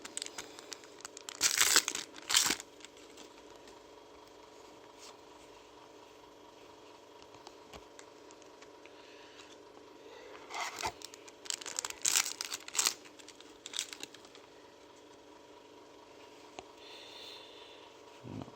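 Yu-Gi-Oh Synchro Storm booster pack wrappers are torn and crinkled close up in several short bursts of tearing and crackling plastic, separated by quiet pauses.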